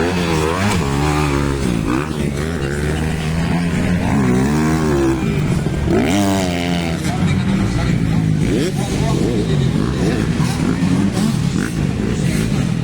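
Racing motorcycles rev loudly and continuously, with engine pitch rising and falling as the bikes accelerate and shift. An excited commentator talks over the noise throughout.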